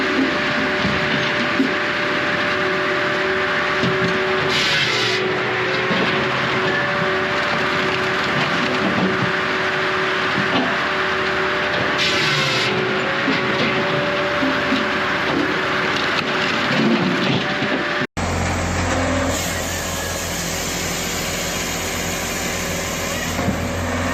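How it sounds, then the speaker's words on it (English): Steady mechanical hum of a Woodbine log splitter in a busy lumber yard with occasional creaks and cracks of wood, continuous and busy, then an abrupt change in the background near the end. "The air is filled with a mix of engine sounds and the crisp crack of splitting wood."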